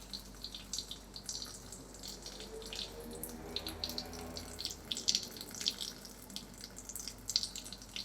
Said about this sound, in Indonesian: kita hidupkan keran air dengan menggunakan pump ataupun keran otomatis